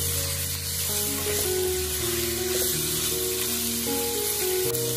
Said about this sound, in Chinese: 把五花肉炒香，先炒干肉里面的水分，把五花肉炒至变色